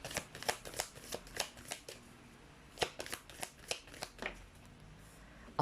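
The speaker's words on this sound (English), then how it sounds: "You saw me shuffle?" Tarot cards shuffled by hand, a rapid series of crisp riffling bursts with short pauses between them, close and fairly clear, without talking.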